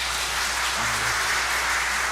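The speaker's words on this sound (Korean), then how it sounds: "이렇게 박수가 나올 줄 몰랐는데." Church congregation applauding after a sermon, a dense steady wash of clapping filling the room, sustained and fairly loud throughout.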